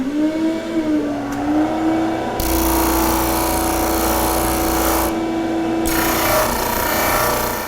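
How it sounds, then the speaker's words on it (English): A disc sander grinds down the leading and trailing edges of a wooden block, rounding them over; a steady motor whine runs throughout, with the rougher, louder sanding contact starting partway in and easing briefly before resuming. "I'm just going to use the disc sander to round over the leading and trailing edge of this block"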